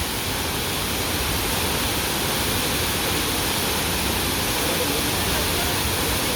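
Leke Leke waterfall in Bali rushes in a loud, steady, unbroken roar of falling water heard up close, with no pauses.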